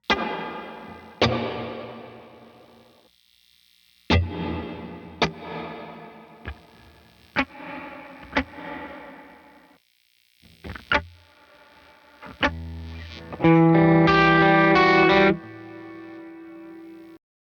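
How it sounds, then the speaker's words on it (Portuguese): Electric guitar notes played through a multi-reverb pedal with the pre-delay raised, so each plucked attack stands apart before a long shimmering tail; separate notes ring out with pauses, ending in a louder sustained chord, no talking. "consigo também mexer no pré-delay para separar um pouco o ataque da minha nota para a cauda do reverb"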